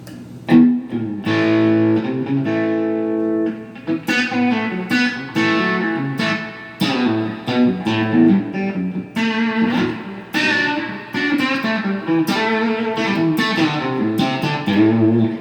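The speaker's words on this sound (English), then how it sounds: "it takes distortion pretty well too" A Slick SL51 electric guitar with light, gritty distortion plays a lively run of chords and riffs, loud and close, with no voices.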